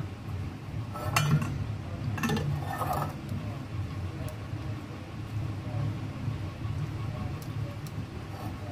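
Metal spoon clinking and scraping around a bowl while mixing oil to grease it for mango pudding, a few brief clinks over a low steady background hum.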